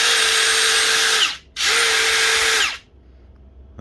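Ryobi One+ brushless impact driver spins free at its third speed setting in two loud, high-pitched whirring bursts separated by a short pause, each winding down as the trigger is released.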